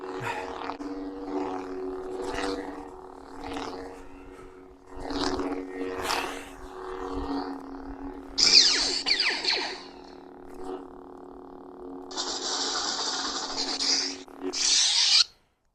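A realistic lightsaber replica igniting and humming, with steady electric hums, swishes and crackling bursts, including sharp ignition surges near the end.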